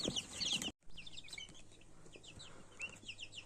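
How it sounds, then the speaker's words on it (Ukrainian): Legbar chicks cheep in quick, high, overlapping peeps, faint and continuous, with a short pause near the start. "Тут у нас курчатка легбар"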